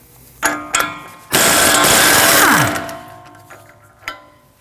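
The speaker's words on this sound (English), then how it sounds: "Remove the axle nut with a 36mm socket." Removing the axle nut on a 2016-2022 Honda Pilot front steering knuckle with a 36mm socket, a loud close impact-tool burst of about a second and a half, bracketed by a few sharp metallic clanks.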